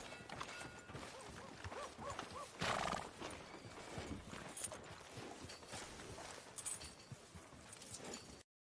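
A horse in the video game Red Dead Redemption II whinnies and neighs, with clip-clopping hooves walking steadily throughout, close and clear, with a sharper burst of noise partway through.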